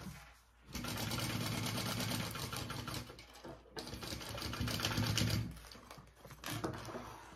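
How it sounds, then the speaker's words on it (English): Sewing machine stitching a basting seam to close the side of a crossbody bag, a steady close rapid mechanical whir running in two sustained stretches with a brief pause between them. "So I'm basting this side shut."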